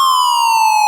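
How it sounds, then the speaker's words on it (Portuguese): Sampled siren sound played back in Rekordbox 4.0 DJ software, a steady, loud electronic wail with a slowly falling pitch, alone and unbroken for under a second. "Esse cara aqui, ó, é como se fosse uma sirene, ó."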